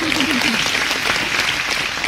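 An audience breaks into loud, dense applause at a comedy talk, sustained clapping close and continuous for the whole moment.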